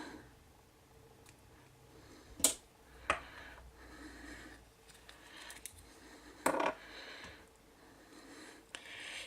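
Scissors cutting flat Mylar tinsel, a gold-and-silver material, for tying a fly: a few sharp, quiet snips and crisp clicks spaced out against near silence.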